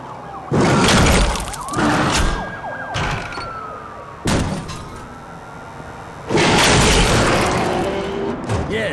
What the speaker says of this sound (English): a big explosion